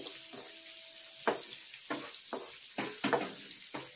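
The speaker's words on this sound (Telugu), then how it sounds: "ఇవన్నీ కొంచెం ఫ్రై అవుతున్నాయి" Turmeric and tempering spices fry in hot oil for an eggplant curry, giving a steady sizzle broken by several sharp bursts as the pan is stirred, close and clear with no voices.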